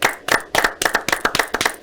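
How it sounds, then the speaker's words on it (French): A small group of people clapping close by in an irregular patter of sharp hand claps, loud and continuous with no voices. "Nous vous applaudissons quand même."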